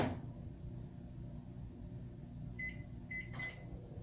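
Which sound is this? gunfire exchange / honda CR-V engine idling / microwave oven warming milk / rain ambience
microwave oven warming milk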